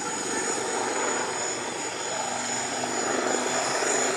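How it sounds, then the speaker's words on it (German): Rotor and engine roar from two Royal Navy AW Wildcat HMA2 helicopters passing overhead at an air show, a continuous loud whir that swells slightly, with no voices. "die beiden Hubschrauber kurven jetzt zurück zu uns"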